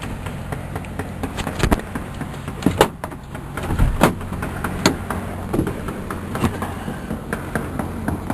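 People climb out of a truck while delivering a sign, and several sharp door clunks and thumps ring out over a low, steady background, close by and with no talking.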